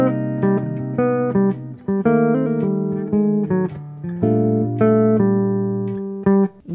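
The opening line of the B section of a bebop tune, a busy bebop phrase of rapid melodic notes with repeated static-harmony embellishments over a held lower part, loud and alone for about seven seconds.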